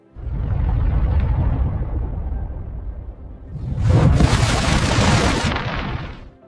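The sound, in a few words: explosion of an asteroid impact, documentary sound effect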